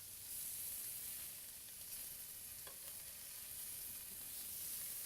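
Filets sizzle loudly in a hot pan while being flipped, a steady bright frying hiss with faint scraping clicks throughout and no voices.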